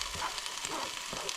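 Diced vegetables for a chili hit a hot pan on the stove and start to sizzle, a steady close crackle with a few scraping pushes over a brief stretch.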